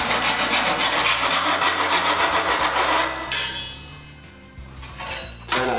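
A tool rasps back and forth across the cut metal edge of a 4 mm cable tray, a dense scraping that runs steadily before trailing off into quieter handling.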